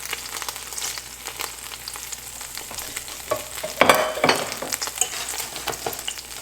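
Cumin seeds sizzle in hot oil for an Indian-style Tibetan lamb thukpa, a close, crackling hiss with quick pops, swelling into a louder burst of spitting midway, then settling back to a steady fry.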